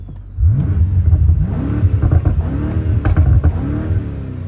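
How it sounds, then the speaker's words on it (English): A 2021 BMW M5 F90 exhaust revs repeatedly in Sport Plus mode against a 4,000 rpm soft limiter, engine note climbing and falling in several loud, close bursts. "So we're in Sport Plus mode. Let's take a look at the exhaust."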